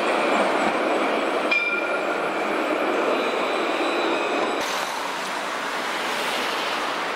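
Line 2 tram in Mulhouse rolls past close by, a steady loud rushing rumble of wheels on rail with faint high squeals, easing slightly toward the end.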